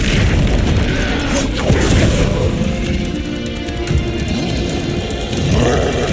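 A Confringo spell explosion in Hogwarts Legacy, a loud, sustained booming rumble that rolls on with crackling bursts layered over dense game noise.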